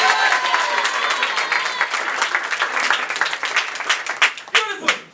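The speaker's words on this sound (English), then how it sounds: "everyone clap it up" A crowd applauds steadily, the clapping thinning into scattered claps near the end, with voices and cheers mixed in.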